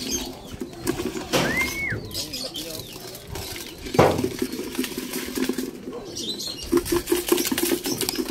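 A racing pigeon beats its wings as it lands at a loft during a derby training in Rosales, Pangasinan. Brief flaps sound among outdoor background noise and other bird calls, with people talking nearby.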